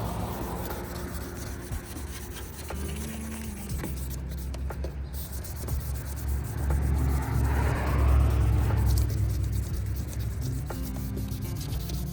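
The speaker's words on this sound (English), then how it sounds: "grab your 2000 grit, same process, get it wet and start sanding." Continuous wet rubbing and rasping of 2000-grit sandpaper against a car headlight, steady back-and-forth scrubbing that swells louder midway, no speech.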